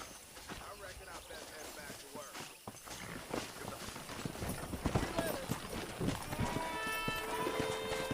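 Horse hooves clip-clop steadily in the Red Dead Redemption video game, a run of quick even hoofbeats under game dialogue and music, moderately loud throughout.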